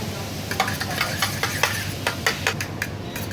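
A fork or whisk beats egg in a bowl for a deep-fried sushi roll coating, producing quick, irregular clicking taps and scrapes against the bowl, close and moderately quiet, with no talk.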